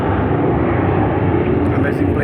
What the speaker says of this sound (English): it's very near to the airport, so that's why you can listen to the noise of